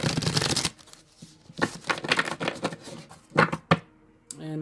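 Tarot cards being shuffled by hand during a full moon reading, producing a dense riffling burst at the start followed by a run of irregular soft slaps and flicks, fairly close and moderately loud.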